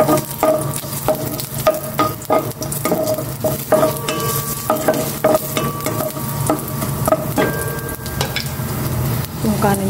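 Ginger sautés in a pan after yellowfin has been fried, loud close sizzling broken by repeated scraping and clanking of a spatula in an irregular stirring rhythm.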